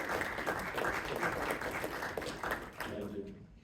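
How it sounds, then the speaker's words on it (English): An audience at a city council meeting in Merriam, Kansas, gives a round of applause, a loud, even patter of clapping that tapers off toward the end. "let's give a round of applause for all Indigenous people on that day"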